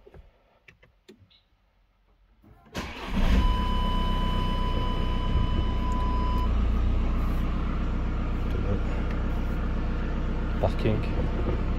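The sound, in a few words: VW Sharan car being started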